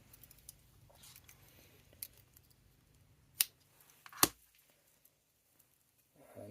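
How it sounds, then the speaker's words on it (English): Trusty scissors on a Victorinox snip through paracord in two sharp, quiet cuts with faint rustling between them. "I'll use the trusty scissors on another Victorinox I've got here"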